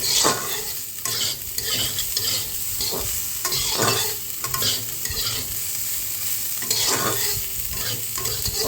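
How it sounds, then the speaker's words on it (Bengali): Poppy seeds fry with bitter gourd in a pan without added oil while a spoon stirs, making repeated scraping strokes over a continuous dry sizzle, close and steady, without speech. "পোস্তটা দিয়ে সুন্দর করে ভাজতে হবে"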